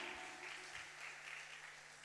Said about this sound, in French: On applaudit le Seigneur très fort